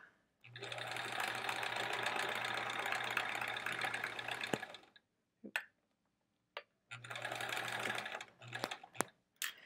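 A home sewing machine stitches a quilt block in two long runs with a steady whirring hum, separated by a pause with small clicks and handling noises; no voices are heard.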